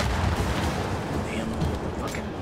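Turrets open fire in Gears 5 co-op play, a dense, rumbling barrage of gunfire and blasts sustained through the moment, loud and close, with voices faintly mixed in.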